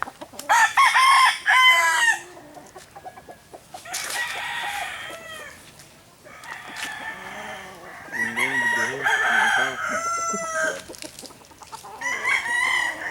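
Young stag roosters crow repeatedly nearby, loud drawn-out calls coming in several bursts with short gaps between them, and a few softer clucks are mixed in.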